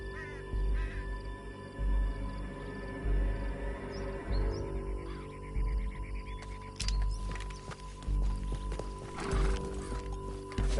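A horse gallops in Red Dead Redemption 2, with rhythmic hoof clip-clops under game ambience, a whinny and scattered effects, and voices briefly heard.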